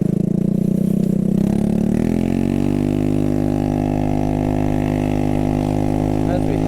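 A loud scooter engine with an aftermarket exhaust revs and settles into a steady, throaty drone with a deep, rumbling exhaust note throughout, heard while riding.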